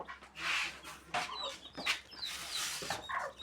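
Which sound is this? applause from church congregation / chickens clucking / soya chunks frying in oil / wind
chickens clucking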